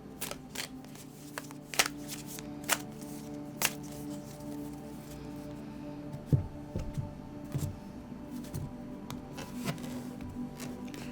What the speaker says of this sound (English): I like to focus on the shuffling so I don't chit-chat over that